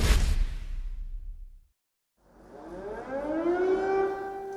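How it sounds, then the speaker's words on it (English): A civil defense air raid siren wails in Kyiv, fading out into a brief silence before the rising tone swells back up, distant and sustained. "Air raid sirens are once again heard in Kyiv"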